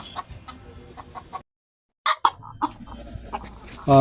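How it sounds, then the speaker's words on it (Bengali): Chickens cluck in a rooftop chicken shed, with scattered sharp calls broken by a short silent gap before more clucking and a loud burst at the end. "আমি আপনাদেরকে এখন দেখাবো এখানকার মুরগিগুলা গাইস এখানে হচ্ছে মুরগির দ্বিতীয় শেড"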